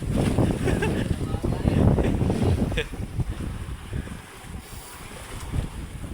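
Strong gusting wind and rough seas buffet a mother boat, with loud roaring wind noise and rumbling water continuous throughout, sea and wind dominating at close range.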